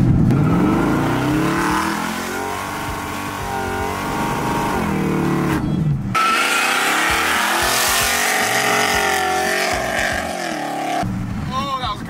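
A supercharged, lowered 1965 Ford Mustang pulls hard under acceleration, engine roar rising through gears with a whining blower on top, loud and close, with a brief lift between pulls.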